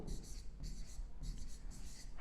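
Quiet rhythmic scratching of chalk or marker writing on a board during an electrician exam lesson, several short strokes in quick succession with faint background noise.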